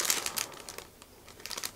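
A paper sheet crinkles and rustles as it is taken out of a MiniArt or Dragon figure kit box, with several close, crisp crumpling bursts and a short quiet gap between them.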